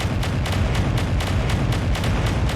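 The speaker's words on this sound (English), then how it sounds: "Missiles?" Rapid missile explosions in a video game form a dense, continuous barrage of booming blasts that are loud and close, with no talking over them.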